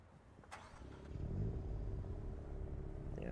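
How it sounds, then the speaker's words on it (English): A car engine cranks over on the starter and catches in the Assetto Corsa EVO racing game, a short whirring crank followed by a low, rumbling idle that swells and holds steady, with no talking. "that's more like a Subaru starter noise or Mitsubishi starter noise"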